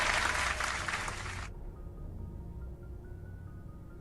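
Applause cheering a new stream follower during a Mass Effect: Legendary Edition gaming stream: a dense burst of clapping for about a second and a half that cuts off abruptly, leaving a low background hum.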